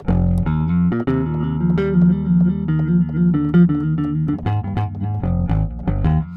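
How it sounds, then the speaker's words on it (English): Plucked bass from a Native Instruments software bass plugin playing a rhythmic line with a deep, round tone and punchy note attacks, steady and upfront. "This is my favorite. This is one of my favorite bass plugins."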